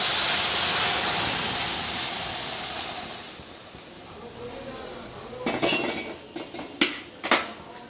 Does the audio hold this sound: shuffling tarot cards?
no